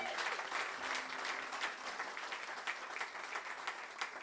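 A church congregation applauds Jesus in steady, dense clapping that fills the room at moderate loudness and continues unbroken throughout.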